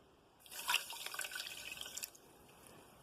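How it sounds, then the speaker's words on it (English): A cup of water is poured briefly onto sugar in a pan for peanut brittle, a soft splashing trickle lasting under two seconds in a quiet room. "I'm going to add a cup of water"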